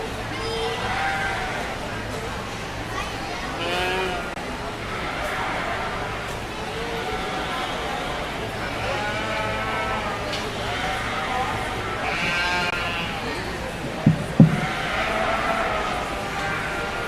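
Sheep bleat repeatedly at a 4-H/FFA breeding sheep show, a string of wavering bleats from several animals across the barn, with people talking underneath and a couple of sharp knocks near the end.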